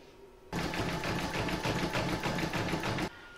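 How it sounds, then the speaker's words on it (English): An embroidery machine stitching a satin stitch border on an in-the-hoop table topper, a loud rapid even whirring rattle that starts abruptly, runs steadily for about two and a half seconds, then stops. "I now pop that back in my machine and stitch round number 10 to join them"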